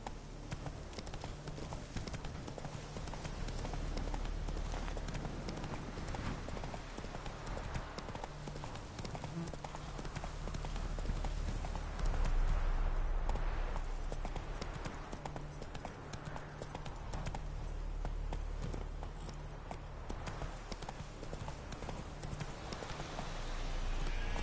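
Hooves clip-clop steadily as Roach the horse gallops through the whole stretch in The Witcher, a constant rhythmic drumming under low game ambience with occasional faint speech.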